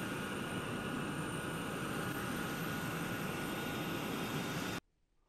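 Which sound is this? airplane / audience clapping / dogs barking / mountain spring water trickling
airplane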